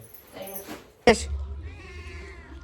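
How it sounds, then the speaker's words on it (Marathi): A single short cat meow, fairly close and loud, breaks a quiet indoor scene, with soft background noise before and after. "ती मांजर आवाज देऊ राहील तुला"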